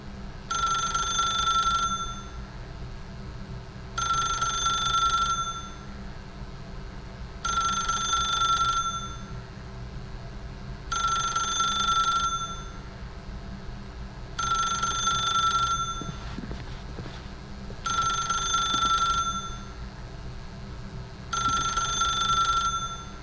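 A telephone in a video game rings in seven evenly spaced bursts of bright trilling bell, each about two seconds long, over a low steady background hum.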